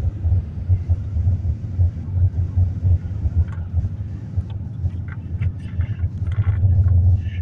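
A 2007 Ford Edge's engine hums low and steady while driving, with road rumble and some wind noise, and no talking.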